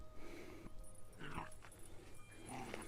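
A dog whimpers and whines softly in a few short bursts close by, with faint room noise and no one speaking over it.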